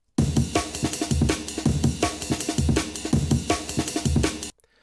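A drum loop, repitched faster and slightly higher, plays as a busy chopped breakbeat: punchy kicks, snares and dense hi-hats repeating in a steady rhythm, loud and alone before cutting off abruptly near the end.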